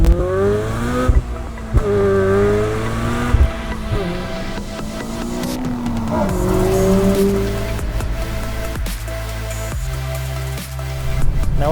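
Honda Civic Mugen RR with a B-series engine revs hard and high, its note rising and falling in repeated loud sweeps, close to the microphone and uninterrupted by voices.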